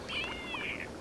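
A cat in a video game lets out a single drawn-out, wavering meow over steady background noise.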